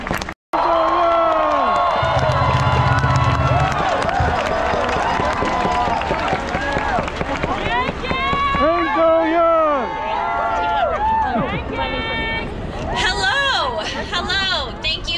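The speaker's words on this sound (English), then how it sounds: "Wow, what a crowd." Large crowd at a Stop Asian Hate rally cheering and shouting, a dense roar of voices with whoops rising and falling throughout, mixed with an amplified speaker talking over it.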